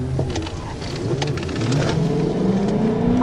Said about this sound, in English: 4 motorcycles thundered past, flying well over 90 miles per hour, weaving dangerously through traffic.